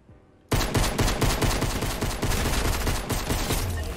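Rapid automatic machine gun fire in the video game Fortnite erupts abruptly after a brief quiet moment, a loud continuous rattling burst of shots that keeps going to the end.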